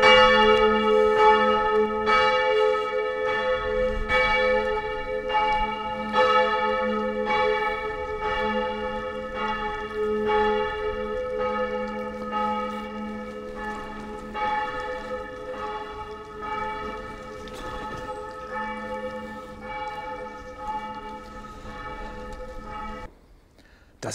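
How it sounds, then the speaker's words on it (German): Church bells ringing at noon on a Saturday in a village in the Osnabrück countryside, a steady peal of repeated strikes heard from some distance for over twenty seconds, then stopping abruptly. "Hier läuten jedenfalls die Glocken."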